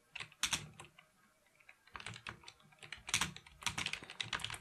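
Computer keyboard typing during a Qlik data-modeling session: quick bursts of clicking keystrokes with a short pause in between, close and fairly quiet, no talking.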